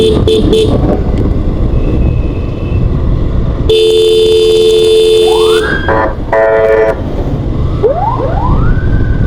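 Loud road-vehicle horn blasts with steady tones over passing traffic and a wailing ambulance siren that sweeps up and down, heard at night on a road near a bike servicing shop, close and prominent.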